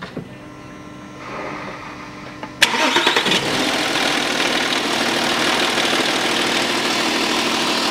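A 2008 Audi Q7 3.0 diesel cranks briefly and catches, then settles into a steady, close idle with a faint background hum before it; no one talks.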